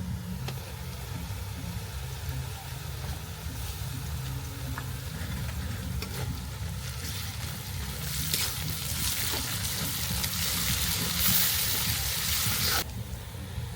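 Garlic paste sizzling and frying in hot oil in a pan, a steady broadband crackle running throughout, growing brighter and louder toward the end, with a low background rumble and no talking.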